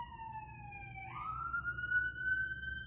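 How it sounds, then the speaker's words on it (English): A wailing ambulance siren sweeps through its rising and falling tones, fairly close and loud over a low background rumble, sounding alone with no talking. "Ambulance."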